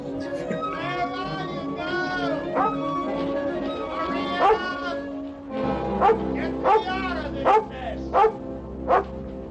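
A dog from the Lassie film The Painted Hills barks and yips repeatedly in short, loud bursts. A person talks continuously over the barking, and whimpering pitches rise and fall between the barks.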